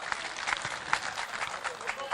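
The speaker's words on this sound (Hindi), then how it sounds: "तालियों से एक मरतबा उनका इस्तकबाल कर दीजिए।" An audience at a mushaira applauds to welcome a poet, giving a dense, fairly quiet stretch of clapping from a crowd heard at some distance, with no speech over it.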